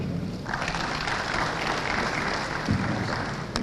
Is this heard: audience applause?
yes